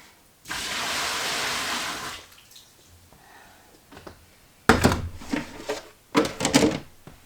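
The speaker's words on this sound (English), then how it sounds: "I'm also going to pour off the water that's on this tray because it's all soapy" Soapy water splashes and gushes briefly as it is poured off a tray during felt hat making, followed by a few short bursts of pouring and dripping with quiet gaps between.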